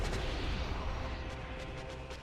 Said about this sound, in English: Alright, that's an explosion.